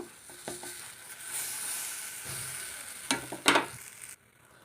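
Idli-batter breakfast frying in a pan as it is flipped: a steady soft sizzle with a few scraping, clattering touches of a spatula near the end, close and clear.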